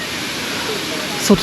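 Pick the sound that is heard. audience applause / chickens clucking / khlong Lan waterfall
khlong Lan waterfall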